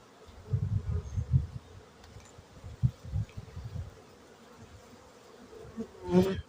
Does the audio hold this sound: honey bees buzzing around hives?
yes